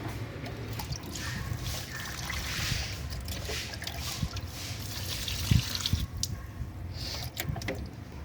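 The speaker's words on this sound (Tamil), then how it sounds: "எல்லா செடிக்கும் ஊற்றிடலாம்." Water pours onto potted plants in a soft, ongoing trickle and dribble at low level, with a couple of small knocks partway through and no voices.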